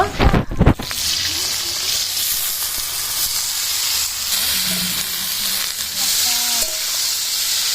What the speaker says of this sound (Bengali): সিদ্ধ করা ইঁচড়গুলো আমি ভেজে নেব